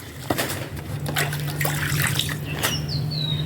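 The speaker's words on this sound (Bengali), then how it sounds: "এই দেখো আমি পানা পরিষ্কার করছি।" Water splashes and trickles in a fish pond as floating weeds are cleared by hand, with close, irregular sloshing and dribbling over a few seconds.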